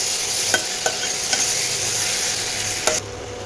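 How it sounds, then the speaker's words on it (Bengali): Marinated mutton and potato going into spices already fried in a pan, a loud steady sizzle with a few sharp spoon knocks against the metal before the sound abruptly drops quieter; no voices. "তো দেখো মশলাটা কষিয়ে নিয়েছি, এবার মাংসটা দিয়ে দেব।"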